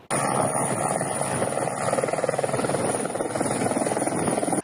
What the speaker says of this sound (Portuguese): A transferência aérea foi viabilizada por um helicóptero, que pousou no campo do Esporte Clube Correias